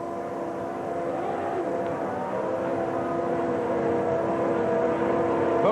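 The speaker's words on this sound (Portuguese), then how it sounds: "Chega o último carro do grid." A 1994 Formula 1 car at the British Grand Prix rolls onto the starting grid, its engine a steady, sustained drone that slowly grows louder, with the broad noise of the circuit around it.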